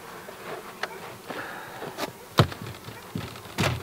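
Honeybees buzz around wooden beehives outdoors in a quiet, steady insect hum. Several brief, louder knocks and rustles stand out against it, and no one speaks.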